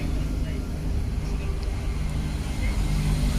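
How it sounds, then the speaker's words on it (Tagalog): Traffic rumbling past on a road close by, a steady low drone of passing cars that runs continuously and fairly loud with no break. "marami ditong mga sasakyan na dumaraan kasi malapit lang yung kalsada dito."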